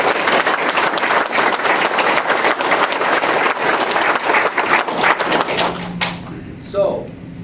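A round of applause at a sheriff's office semi-annual award ceremony: many hands clapping steadily and fairly close for about six seconds before fading, followed by a few faint knocks and shuffles.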